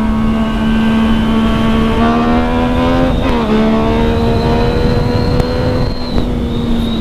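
A motorcycle engine revs hard during a wheelie, a loud close droning whine that climbs in pitch, dips and rises again under steady load, with no talk over it.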